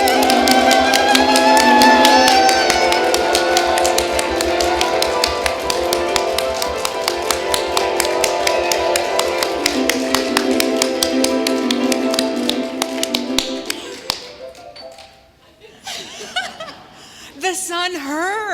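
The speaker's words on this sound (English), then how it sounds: "Clap, stomp, yodel." At a Unitarian Universalist Yule worship service, a congregation claps and stomps together in a steady, brisk beat over singing voices. Chuckles and laughter follow as the rhythm breaks up near the end.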